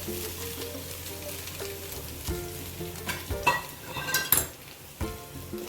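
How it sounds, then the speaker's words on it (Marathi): Freshly grated coconut sautés in ghee in a pan with a soft, steady sizzle, broken by repeated scraping and stirring clinks from a spoon close by, and no talking. "आता यामध्ये आपण जे खोबरं घेतलेलं आहे किसून हे घालू आणि चांगलं परतून घेऊया"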